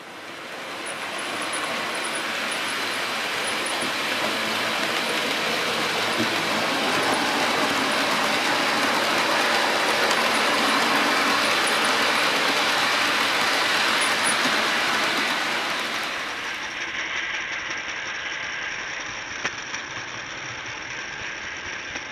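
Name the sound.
Class 37 diesel locomotive engine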